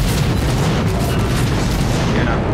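Torpedo hits on an enemy aircraft carrier in World of Warships, fired by a Kuma Tier IV Japanese cruiser, produce a loud, continuous booming roar of explosions and churning water with no clear gaps.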